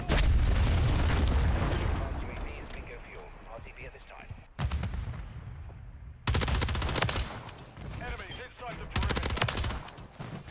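Call of Duty: Modern Warfare III gameplay is full of heavy gunfire: rapid automatic bursts and booming shots come in loud clusters with short gaps between them, while a player's equipment is shot down.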